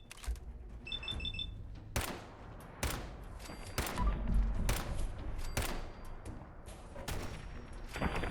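Gunfire in a wasteland video game: repeated sharp bursts of shots at a steady pace, roughly one every second, with a faint beeping tone early on and low rumble underneath, no voices.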